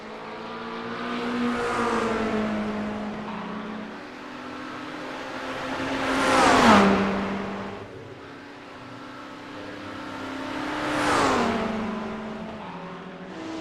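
A GT3 race car laps a sim racing circuit, its engine note climbing through the gears and swelling into three loud passes that rise and fade, with no talking over it.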